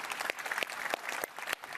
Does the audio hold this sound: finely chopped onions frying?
no